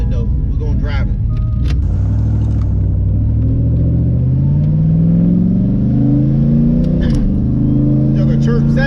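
A turbocharged LS-swapped Nissan 240SX engine runs loud and close, rumbling at idle and then revving up in several rising sweeps, with a sharp blip near the end.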